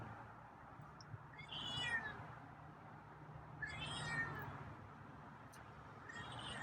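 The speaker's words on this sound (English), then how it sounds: "at least you're giving me some meows." A feral cat meows three times at a slow, even pace, fairly faint against quiet background hum.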